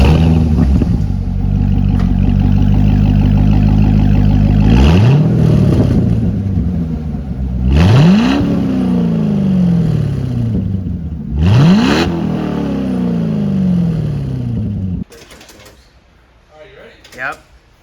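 C6 Corvette Grand Sport with an SLP Loudmouth II catback exhaust: a loud, close, deep rumbling idle broken by three sharp revving blips, then the engine cuts off, leaving quiet with faint movement sounds.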